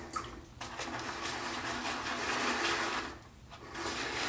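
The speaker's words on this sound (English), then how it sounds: "Look how this is lathering up." Shaving brush whipping lather against the ridged inside of a shaving bowl, a continuous wet, frothy swishing close by, briefly easing off twice before picking up again.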